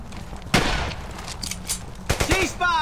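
Machine gun fire rings out as a few sharp, separated bursts and shots, one strong crack early and a quick cluster later, over a murky battlefield background.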